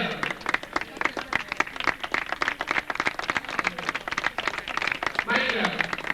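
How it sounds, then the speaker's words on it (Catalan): A live audience at a 1995 Sant Jordi event breaks into lively applause, dense rapid clapping close by, with a voice speaking briefly near the end. "Un aplaudiment per tots."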